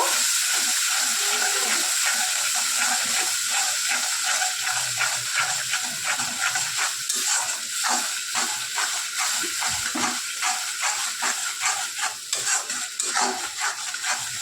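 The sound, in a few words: frying spice paste with black cumin in oil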